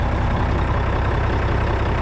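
An old Mack truck left sitting and running, its engine idling with a steady, dense low rumble, continuous and close with no break or change in pace.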